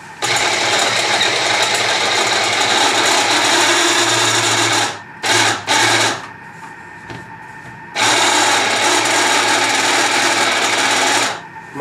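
A Thermomix TM5 blends oil, salt, fresh garlic cloves and dried oregano with a loud, harsh, steady whir that runs for several seconds, cuts out briefly with a few short bursts, then resumes at full strength.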